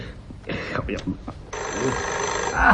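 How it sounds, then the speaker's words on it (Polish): Voices talk nearby, then a telephone starts ringing with a continuous bell-like trill. "No, odbiorę telefon."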